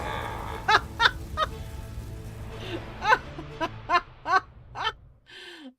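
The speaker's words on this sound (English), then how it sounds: "The duck!" A cartoonish duck quacks repeatedly in the Book of Demons hack-and-slash video game, about nine short nasal quacks in uneven bursts over a low background hum, ending in a brief squeaky effect.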